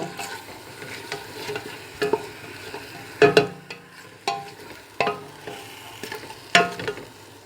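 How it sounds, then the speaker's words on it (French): Meat browning in a pan for Algerian mtaoem, a soft sizzle broken by repeated louder scraping and stirring strokes, with a few clinks of utensil on the pan. "vous commencez à faire griller un petit peu votre viande"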